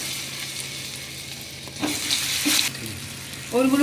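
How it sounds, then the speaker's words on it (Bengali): Boiled elephant foot yam pieces fry in oil left from frying duck eggs, a loud steady sizzle with stirring bursts midway, and a voice starts briefly at the end. "এবার ওই তেলের মধ্যে আমি ওলগুলোকে ভেজে নেবো, সিদ্ধ করা ওলগুলোকে"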